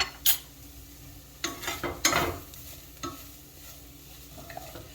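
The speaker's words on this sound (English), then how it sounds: "Just want to give that a little stir." Beef broth is stirred into cheeseburger macaroni in a pot: a few scraping, sloshing stirs with light clinks of the utensil against the pot, over a soft simmering sizzle, then quieter.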